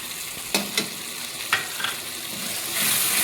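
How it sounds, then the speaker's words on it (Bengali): Mustard and cashew paste frying in hot oil for prawn malaikari, with a soft continuous sizzle and a few clinks of stirring. "এবার আমি তেলের মধ্যে সর্ষেটা ছেড়ে দেবো"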